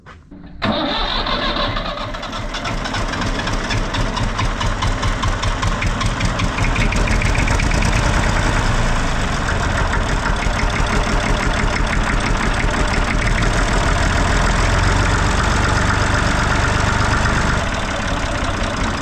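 A Massey Ferguson 35 tractor diesel engine cranks and catches, then runs steadily at a loud, close idle with a rapid, even knock for the rest of the stretch, no voices over it.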